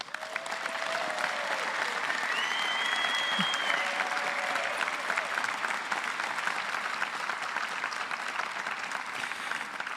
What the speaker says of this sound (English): I'd like us to all just give one more round of applause for our graduates and their outstanding achievements today.